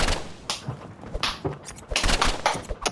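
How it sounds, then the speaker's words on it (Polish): Rapid bursts of automatic gunfire in the Roblox game Rivals crackle in quick succession, with short pauses between the volleys. "tak mam automatyczne strzelanie"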